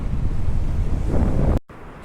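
Wind gusting across a winter seaside beach lined with cafés, with surf washing in beneath, a loud, rumbling buffet against the microphone that cuts off abruptly near the end, leaving quieter background ambience.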